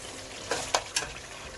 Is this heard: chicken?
yes